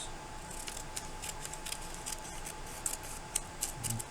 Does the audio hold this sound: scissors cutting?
yes